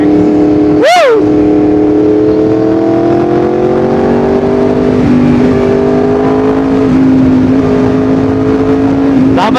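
A Yamaha R1M engine runs loud and close, with one sharp rev that spikes and falls, then a sustained high-pitched drone whose pitch rises and shifts. A voice gives a brief shout near the start.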